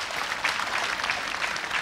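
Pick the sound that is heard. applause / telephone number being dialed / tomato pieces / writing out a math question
applause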